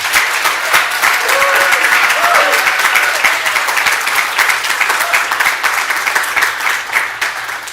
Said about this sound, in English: Please give Betty a nice round of applause